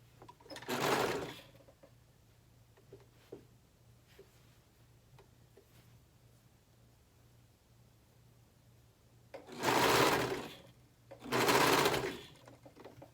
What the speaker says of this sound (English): now we're going to sew these three pieces together for 2 inches on each side of the seam.